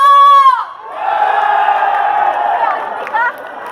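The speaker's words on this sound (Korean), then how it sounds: "어떻게 박수 함성 소리 한번 들어볼까요?" Festival crowd at an outdoor celebratory concert for the Samgilpo rockfish festival in Seosan cheers loudly and steadily after a shouting voice, with a broad sustained roar and whoops rising near the end.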